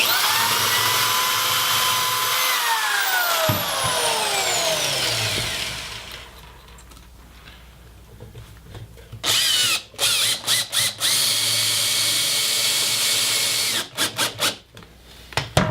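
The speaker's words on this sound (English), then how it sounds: "Now I'm going to pre-drill and put in some wood screws." A power drill winds down with a falling whine, then after a quiet pause comes a series of short, loud bursts of pre-drilling into wood for screws while building a birdhouse.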